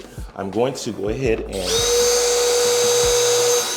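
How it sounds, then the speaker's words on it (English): A power drill fitted with a countersink bit whirs up to a steady high whine as it cuts into wood, loud and close, right after a man's brief spoken line. "with my drill and my countersink already on there"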